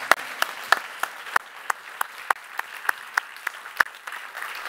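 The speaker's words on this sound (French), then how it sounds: "je crois qu'on peut les applaudir" Scattered, sparse clapping from a small audience at an engineering awards ceremony in France, honouring winners for a low-carbon district, the 2024 athletes' village; individual claps sound unevenly and fairly faint against a quiet room.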